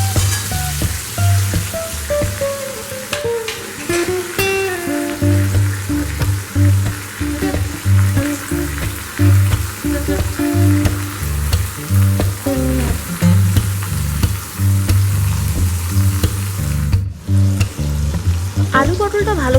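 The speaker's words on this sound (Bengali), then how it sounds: "পটলগুলো ভাজার সময় এখানে আমরা তেলের মধ্যে দুটো কাঁচা লঙ্কাও দিয়ে দেবো, তাহলে হালকা হালকা ঝালটাও চলে আসবে।" Pointed gourd and potato frying in oil with green chillies crackle and sizzle loudly and continuously up close, with scattered pops and the occasional clatter of a utensil against the pan.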